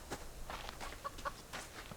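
Chickens on a small subsistence homestead cluck softly several times in short, scattered bursts over a quiet background.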